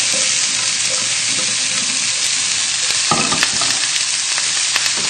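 Fish fries in a hot pan on a hob, a steady broadband sizzle with crackles and spits throughout, plus a brief scrape or stir partway through, close and loud with no talking.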